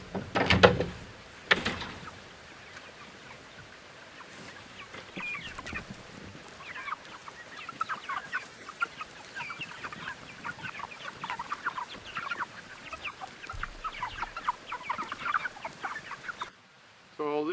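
A hen leaving a chicken coop in the Rocky Mountains clucks in soft, scattered bursts, close by, with a few louder rustles and thumps near the start.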